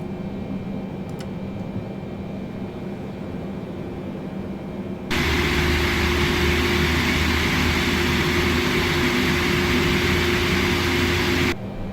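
Boeing 747-8F jet engine starting up in Microsoft Flight Simulator, a steady cabin hum that abruptly jumps into a louder, broad roar with a rising whine, holding for several seconds before cutting off.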